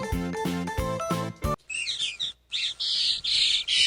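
Small bird chirping in quick bright bursts after a short musical jingle, with repeated high tweets and trills close and clear, no talk.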